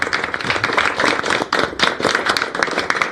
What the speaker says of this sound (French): On peut applaudir, s'il te plaît